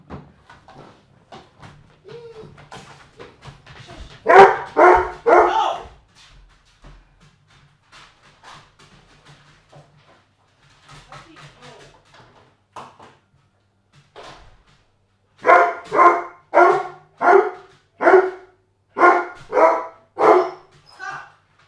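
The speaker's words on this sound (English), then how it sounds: "Apologize for dog noises." A dog barks in two loud bursts, a quick cluster of four or five barks early on and a longer run of about eight evenly spaced barks near the end, with quiet indoor sounds between.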